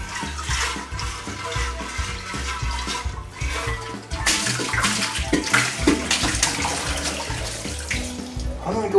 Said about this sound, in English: I'm going to go ahead and give this one more rinse